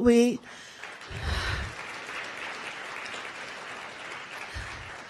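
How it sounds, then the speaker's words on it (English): An audience applauds at a regional We the People civics competition at UNLV, with a brief tone at the start and then steady, even clapping throughout. "Please give a round of applause."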